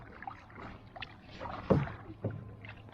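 A kayak paddle dips and pulls through the water of Lake McDonald in Glacier National Park, with close splashes and swishes at an uneven rhythm and a soft drip between strokes.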